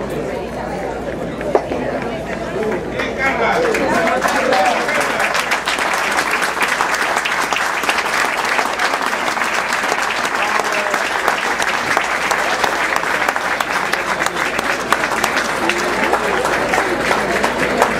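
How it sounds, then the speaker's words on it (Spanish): A crowd applauds steadily at a Peruvian Paso horse show as a champion mare parades, the clapping dense and continuous throughout, mixed with crowd chatter and an announcer's voice over it. "Fuerte aplauso para esta linda yegua AEB Nueva Esperanza que desfila ahora"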